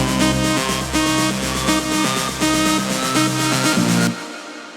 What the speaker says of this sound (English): Then I added some uplifters, fills